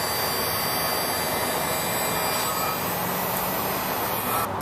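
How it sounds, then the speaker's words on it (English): A heat gun blows hot air steadily to shrink heat-shrink tubing over soldered LED strip wiring for a car light install, a loud, constant hiss-roar running unbroken through the whole stretch. "just give him a hit with the heat gun and you can watch this stuff shrink before your eyes"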